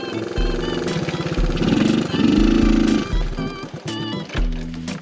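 A Honda CT90 motorcycle engine chugs loudly and close in a rapid, uneven putter, its pitch rising and falling as the throttle shifts over rough ground, with occasional sharp clicks and knocks.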